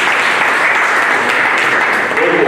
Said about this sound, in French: Applaudissez d'abord pour la population de Kamituga et de Mwenga